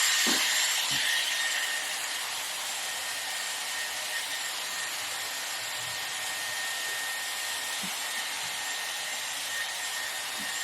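A Dyson Airwrap styler blow-drying hair with a round brush, a steady loud close-up whooshing hiss of air that runs continuously, with a few faint knocks underneath and no talk.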